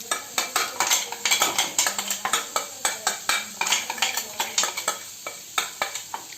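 Grated coconut paste with dried chillies is sautéed over low heat in a pan for beetroot fry, with steady close scraping and stirring strokes and a soft sizzle throughout, no voices.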